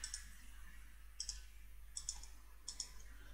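Computer keyboard keys click in short paired taps, four pairs spaced about a second apart, crisp and close in a quiet room.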